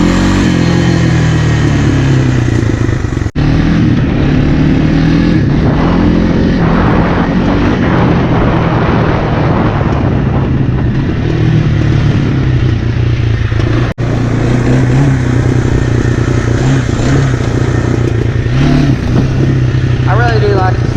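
Honda 300 Fourtrax ATV engine running loud and steady throughout a ride, with a brief carburetor bog and dips around two points, wind and rumble mixed in.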